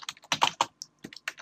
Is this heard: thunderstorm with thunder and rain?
no